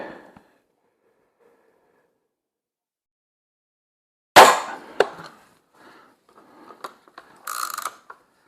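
A Feinwerkbau 300 S .177 air rifle fires a single sharp, loud shot at a target after a long silence, followed by quieter mechanical clicks and handling rattles.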